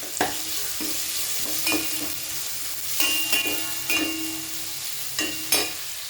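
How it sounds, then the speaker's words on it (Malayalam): Onions and curry leaves fry in a pan for a Kerala mackerel curry, giving a bright, continuous sizzle. A spoon stirs with repeated metallic scrapes and clinks at irregular intervals. "സവാള വഴറ്റിക്കൊണ്ടിരിക്കുന്ന കൂട്ടത്തിലൂടെ നമ്മൾ കുറച്ച് വേപ്പിലൂടെ ഇട്ടെടുക്കുന്നു."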